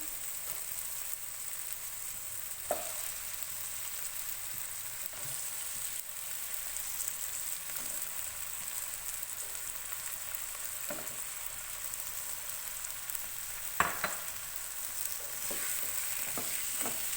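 Diced potatoes and soft-cooked tomatoes sizzle steadily in a pan over medium flame for aloo katliyan, with occasional scraping stirs of the spatula breaking through the constant frying hiss; no one speaks.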